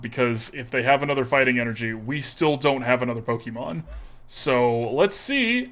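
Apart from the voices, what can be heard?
No everyday noises stand out.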